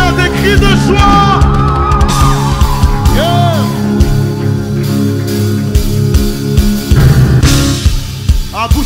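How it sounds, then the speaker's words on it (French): A church congregation lets out loud cries of joy, with yells, whoops and layered shouting voices blending into a dense, sustained roar mixed with music. "Est-ce qu'à ça tu peux ajouter des cris de joie?"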